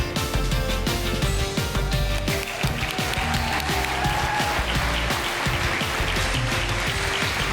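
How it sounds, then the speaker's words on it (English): Applause from an awards gala audience, dense and full with a booming low rumble under the clapping, sustained at a steady loud level from start to finish with no voices standing out. "please help me keep the applause going"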